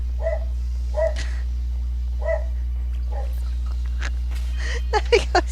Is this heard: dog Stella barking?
yes